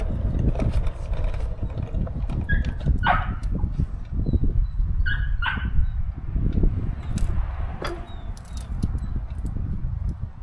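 A puppy whines and yips in short high-pitched bursts at intervals, over a steady low rumble of background noise.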